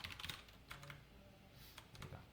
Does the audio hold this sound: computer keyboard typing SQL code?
yes